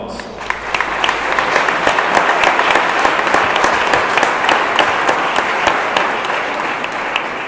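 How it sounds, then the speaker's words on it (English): A loud, dense round of audience applause for honorees at a varsity athletics awards ceremony, steady and sustained throughout with no talk over it. "Let's give all of our honorees a round of applause."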